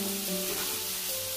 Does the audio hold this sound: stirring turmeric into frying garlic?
yes